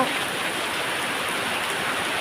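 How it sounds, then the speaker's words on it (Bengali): Steady rain pours down over a flower garden with roses, a dense, even hiss of drops striking leaves and ground, close and continuous without pause. "এখন বৃষ্টি হচ্ছে"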